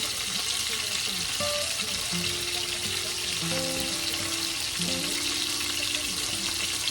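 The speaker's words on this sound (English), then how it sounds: "So this is just after I breaded them and started frying them." Breaded chicken cutlets sizzle and crackle steadily in a hot pan, a dense continuous frying hiss, with faint tonal clinks and hums in the background.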